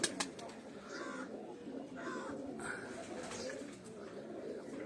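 An English pigeon in a loft coos in soft repeated bursts amid faint chirps from other birds, with steady background noise throughout.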